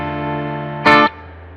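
EVH Wolfgang Special electric guitar with quilted maple top through a Mesa Boogie amp with reverb, a sustained clean chord ringing out, then a short bright strike that decays into a lingering reverb tail.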